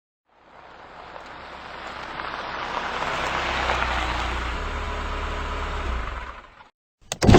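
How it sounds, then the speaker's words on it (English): Video-game car in Carmen Sandiego Treasures of Knowledge, set in wintry Quebec City, approaches through rain: a hissing engine rumble swells over several seconds, fades away, then a short sharp knock follows. "I hear a car coming."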